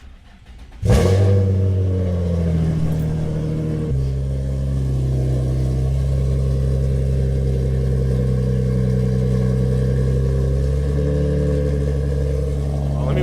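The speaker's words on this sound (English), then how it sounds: "y'all gonna get the cold start y'all wanted" A Nissan G35 fitted with a new 30-row oil cooler cranks and catches in a cold start after a week sitting, settling into a loud, steady, close idle with a slight rev change partway through.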